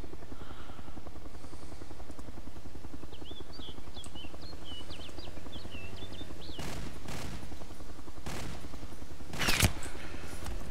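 An MG3 machine gun fires in a military shooter game, sustained bursts near and loud under a steady helicopter-like rotor drone, with a sharp crack near the end.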